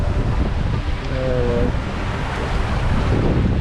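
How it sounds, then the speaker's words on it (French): Constant wind rushing over the microphone with the heavy wash of sea swell around a sailboat moving at 7 to 9 knots on the open sea, loud and unbroken. "un bon vent, on a un peu de houle"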